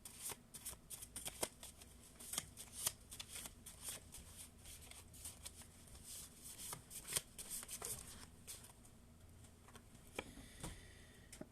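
Tarot cards being shuffled, heard as soft, close riffling and flicking with repeated sharp card snaps scattered throughout, quiet and alone without talk.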